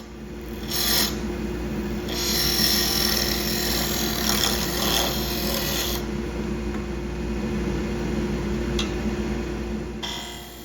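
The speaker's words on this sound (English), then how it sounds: "Using my skew chisel here with a peeling cut to remove material so we can get this ferrule on." A skew chisel takes a peeling cut on wood spinning in a lathe at 2,500 RPM, giving a continuous rasping, hissing scrape over the machine's steady hum, with a few louder bursts as the tool bites.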